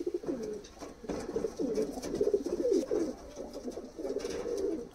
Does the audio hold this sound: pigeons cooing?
yes